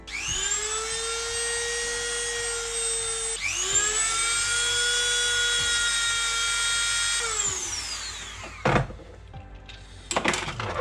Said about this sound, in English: So I'm just grinding this down basically to